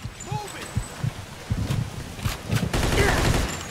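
Gunfire rattles through a shootout in the video game Mafia 2, including shotgun fire, with bursts of sharp shots that grow into a heavy, sustained volley toward the end.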